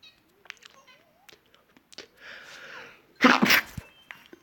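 A single loud sneeze bursts out near the end of a short, mostly quiet stretch scattered with small clicks and brief vocal sounds, the sneeze sharp, close and clearly the loudest moment.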